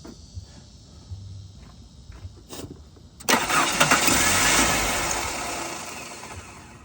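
A 1991 Mercury Topaz with fuel injection and a suspected failing fuel pump, cranking over with a faint rhythmic chug before the engine catches with a louder surge of roar that slowly tapers off.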